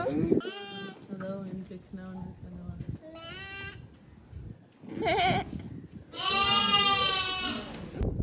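Sheep bleat repeatedly at a sheep farm in Kodaikanal, loud nearby calls arriving in several separate bursts, with people talking between and over them.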